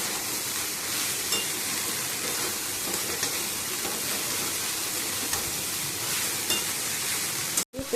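Cabbage frying in a pan gives a dense, continuous sizzle with faint scrapes of stirring, steady and close throughout, ending in a brief dropout.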